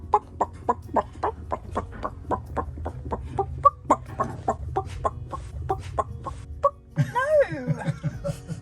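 A human voice imitates a chicken, repeating steady rhythmic clucks about twice per second and then breaking into a higher, wavering squawk, with a faint low hum underneath.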